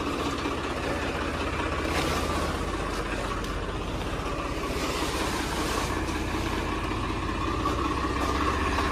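A tractor engine running at a steady idle, a constant low mechanical rumble and chug that stays even and fairly faint throughout, with no voices.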